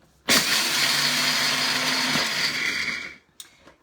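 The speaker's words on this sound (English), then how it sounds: "pop it into your food processor or blender" A food processor or blender grinds food in a loud, steady whir lasting about three seconds, starting abruptly and winding down at the end, with a brief clunk afterward.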